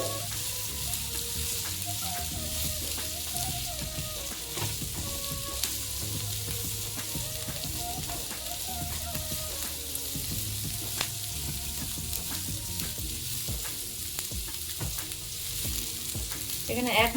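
Poppy seeds frying in a pan with oil for malai egg tikka, a steady close sizzle with soft stirring scrapes running continuously throughout; no voices.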